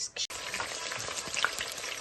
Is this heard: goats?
no